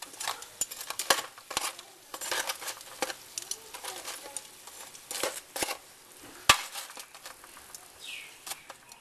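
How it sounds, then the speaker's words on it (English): Roast potatoes are turned over one by one in a roasting tin, giving a scattered run of light metallic clinks, scrapes and soft sizzle at moderate distance, then quieter gaps, with no talk. "I'm just going to turn them all over"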